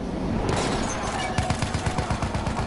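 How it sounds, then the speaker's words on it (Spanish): Gunfire in the Battlefield 1 video game, a dense roar of battle noise with a rapid burst of automatic shots in the second half, loud and continuous. "se ve que los balazos vienen de por allá, por el carro rojo"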